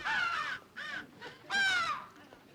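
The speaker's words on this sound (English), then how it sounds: "It's the crows." Crows caw loudly and close by in four harsh, drawn-out calls. The calls come in two pairs with short pauses between them, and there are no voices.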